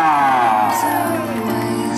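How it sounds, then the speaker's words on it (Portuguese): A crowd whoops and cheers loudly and continuously at a lively public surprise event in São Paulo's east zone, with excited voices blending into a sustained roar. "Uma salva de palmas"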